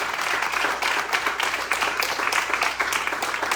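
Church congregation clapping in loud, dense, continuous applause throughout, with no speech on top.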